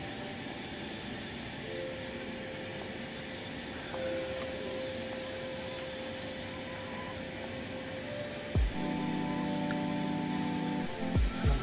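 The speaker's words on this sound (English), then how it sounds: "So slow the lathe down, turn it up just a little bit so we're not running too fast." Wood lathe spinning a clear epoxy resin shaving brush handle at low speed while it is sanded through the grits, a steady broadband hiss of abrasive rubbing with a faint motor tone and brief tonal squeals near the end.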